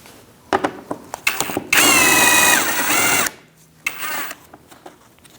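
Bolt being removed with an 8mm socket on a 2000-2006 Mini Cooper 1.6L L4 during radiator replacement, a few clicks and taps then a loud whirring power-driver run of about a second and a half, followed by a shorter burst, close up.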